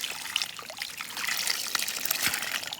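Water trickles and splashes steadily from a spring pipe freshly cleared of a dirt blockage, a close, continuous, bright dribbling stream with no talk.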